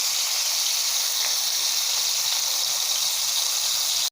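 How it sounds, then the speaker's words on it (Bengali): Three chicken pieces frying in oil, a loud, constant hissing sizzle that holds without pause, nearby and with no voices. "আমি এইখানে 3টাই ফ্রাই করছি"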